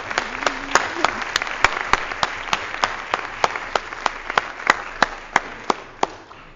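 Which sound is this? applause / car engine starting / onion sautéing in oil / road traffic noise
applause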